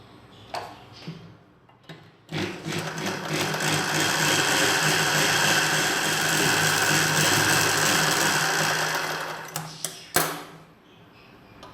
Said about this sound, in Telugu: డబుల్ స్టిచ్ ఇంకొకసారి కుట్టు వేసుకోవాలి